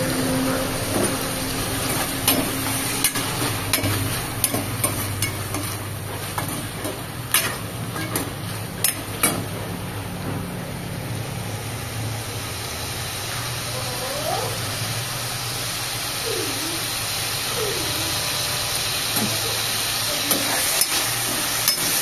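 Chopped onion and tomato frying in hot oil for an anapa ginjalu sambar, a steady close sizzle with stirring clatters and spoon scrapes running throughout, no voices.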